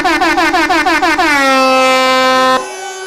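A crowd honks vehicle horns at an outdoor playing field, a loud blare in rapid pulses, then one long steady blast before cutting off.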